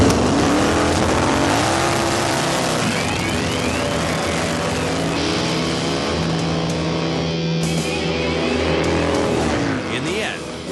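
Custom-built motorcycles roar through a drag race, a loud continuous engine wail with rising revs and shifting pitch that fills the whole stretch, fading slightly at the end.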